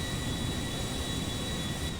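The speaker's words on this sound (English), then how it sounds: "could you imagine seeing this Pepsi Concorde flying out of Los Santos like this?" A Pepsi-liveried Concorde jet flies over Los Santos in GTA 5, a loud, steady broadband jet roar with a constant high whine running through it.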